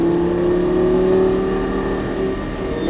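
A Lamborghini Gallardo LP550 runs on a racing track, its engine droning loud and steady under throttle from inside the car, with a sustained tonal roar that shifts slightly in pitch.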